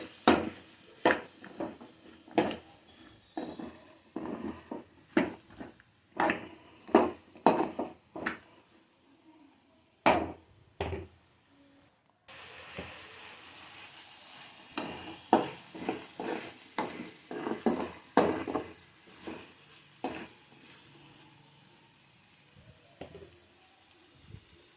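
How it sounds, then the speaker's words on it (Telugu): Ridge gourd pieces being stirred in oil in a pan for a moong dal curry, with repeated clattering scrapes of a spoon against metal at an irregular rhythm and a soft frying hiss underneath. "ఇప్పుడు దీంట్లో బీరకాయ ముక్కలు వేసి ముక్కలకంతా నూనె పట్టే వరకు బాగా కలుపుకొని 5 నిమిషాల పాటు నూనెలోనే ఫ్రై చేసుకోవాలి"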